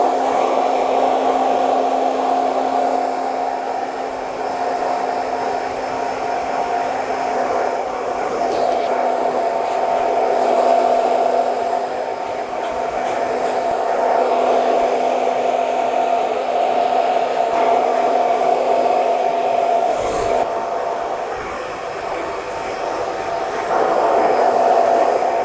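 A hair dryer blows steadily and close up while drying a man's medium-length hair with a pre-styler, a continuous whooshing roar with a constant motor whine and slight shifts as it moves.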